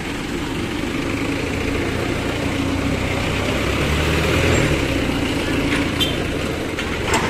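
A tow truck engine rumbles steadily at idle throughout, a low continuous drone with slight swells in loudness, and no voices stand out.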